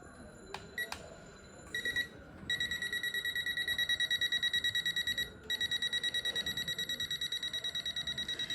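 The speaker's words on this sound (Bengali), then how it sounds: "সাথে সাথে আপনার অ্যালার্ম বেজে উঠবে।" A digital voltage alert tester detecting live electricity gives off a rapid, evenly pulsed electronic beeping alarm, close and clear, with a few soft clicks before it starts and a short pause midway.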